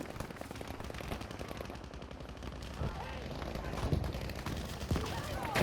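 Battlefield V combat with a Gewehr 43 rifle and a tank nearby: dense, continuous gunfire and machine-gun bursts rattle steadily beneath a player's voice and grow slightly louder toward the end.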